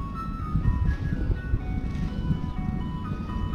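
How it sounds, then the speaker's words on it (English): An ice cream truck passing on a street, its tinkling jingle faint and distant over a low rumbling engine, steady for a few seconds. "Ice cream man looking for kids."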